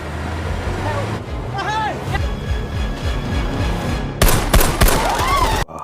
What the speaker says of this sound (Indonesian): mendengar suara tembakan, dor-dor